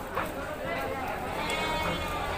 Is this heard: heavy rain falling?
no